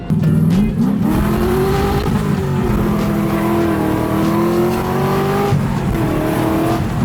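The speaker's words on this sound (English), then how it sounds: "He's 2 seconds down the road and blowing through gears, spinning tire." A V8-powered 1972 Datsun 240Z engine revs hard and climbs through gears, with tire squeal mixed into the steady roar throughout.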